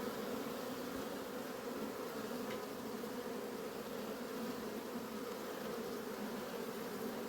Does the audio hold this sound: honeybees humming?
yes